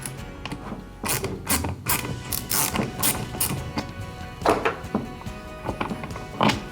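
A ratchet backs out a bolt on the pedal drive of a Hobie Mirage Passport kayak, giving close, irregular clicks and mechanical clunks at moderate loudness.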